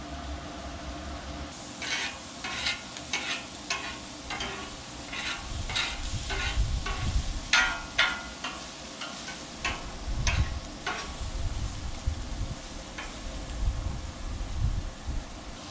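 Shrimp cook on a Blackstone griddle with a soft, steady sizzle beneath intermittent clicks and scraping taps of a spatula, close and moderately quiet.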